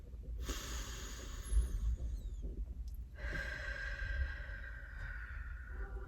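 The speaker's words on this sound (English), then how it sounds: "You can go ahead and practice your breathing." Slow, deep breaths in and out during a seated silent meditation, each long airy inhale and exhale close and audible over a steady low hum, with no talking.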